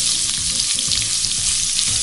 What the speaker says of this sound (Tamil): வெங்காயத்தைங்க எண்ணெயில் நல்ல ப்ரௌன் ஷேடு வர அளவுக்கு நல்லா வதக்கி எடுத்துடணுங்க